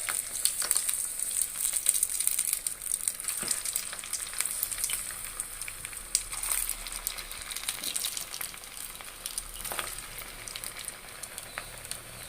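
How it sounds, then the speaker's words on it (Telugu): Puffed rice vadas deep frying in hot oil on a low-to-medium flame, a steady close crackling sizzle with scattered sharp pops, continuous throughout without talk. "మనం వేయించుకోవాలి."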